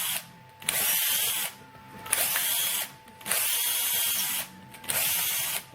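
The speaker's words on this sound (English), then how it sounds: "so I have to drill all of" A power drill clears oozed PETG from a 3D-printed part for a treadmill-motor sim steering wheel, whirring in four loud bursts separated by short pauses.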